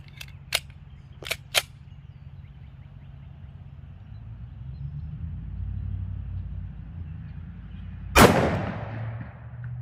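A single loud, sharp gunshot from a .40 Super 1911 pistol firing an Underwood hardcast round into ballistic gel about 10 feet away, following a few short metallic clicks over a low background rumble, with no talking.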